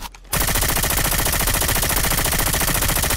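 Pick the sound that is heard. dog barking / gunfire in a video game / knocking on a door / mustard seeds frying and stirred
gunfire in a video game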